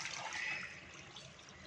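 Water poured over shark fish pieces in a cooking pot to loosen the skin, a steady close hissing splash and trickle that eases off slightly, with no talk.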